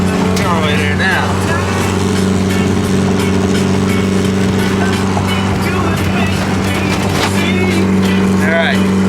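A car running on 93-octane gasoline accelerates hard, its engine drone and tones shifting as it gains speed, heard from inside the cabin with people talking over it.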